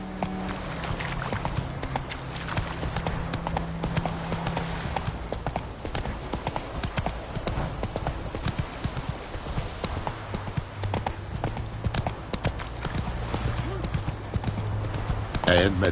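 A horse gallops in The Witcher 3, its hooves drumming in a fast, steady clip-clop throughout, close and prominent over a constant outdoor game ambience, with voices speaking briefly in the mix.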